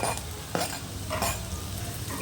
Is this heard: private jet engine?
no